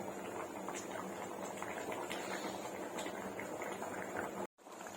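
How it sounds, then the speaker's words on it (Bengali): Gravy simmering in a pot for a Bengali festive bhog, a steady close bubbling hiss with faint pops, one brief dropout near the end. "এবার ঝোল ফুটবার জন্য কিছুক্ষণ সময় দিচ্ছি"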